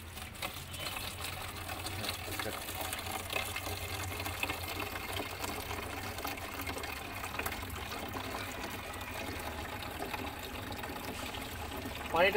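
Water from a filled container is poured slowly onto a rose plant, a quiet, continuous trickle and splash that runs unbroken from start to finish.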